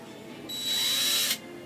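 A power drill bores a hole through a plastic 1/6-scale Hot Toys figure fist, whining up loudly in one steady burst of just under a second, then stopping, with no talk.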